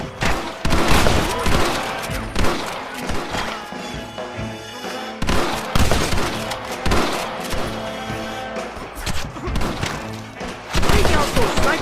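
Gunfire from the Red Dead Redemption video game, dense bursts of shots and impacts crackling through a loud, continuous firefight with repeated volleys and heavy thuds.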